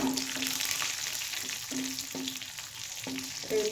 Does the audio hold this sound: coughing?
no